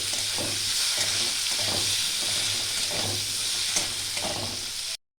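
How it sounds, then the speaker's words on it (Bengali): Tomatoes sizzle and crackle steadily in a hot pan, with rhythmic scraping as they are stirred, close and fairly loud throughout. "এটা হালকা করে আমি ভেজে নেব"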